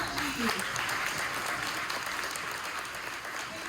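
Audience applause after a book talk by bestselling authors, a dense, steady wash of many hands clapping at close range, sustained and even throughout, with faint voices mixed in underneath.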